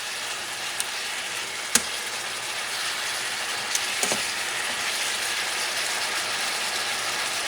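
Pork and chicken sizzle steadily in a pan, a soft, even hiss with a few sharp clicks and pops, close and alone without talk.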